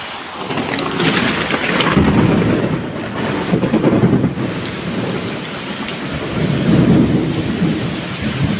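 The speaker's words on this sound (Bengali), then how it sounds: "হয়তো আপনারা শুনতে পারছেন কত জোরে বিজলি চমকাইতেছে" A heavy thunderstorm with loud rolling thunder over steady pouring rain, the rumbles swelling and fading in waves with no voices.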